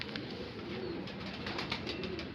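Large Shahjahanpuri pigeons give low, soft cooing murmurs over a couple of seconds, faint with light rustling and no speech.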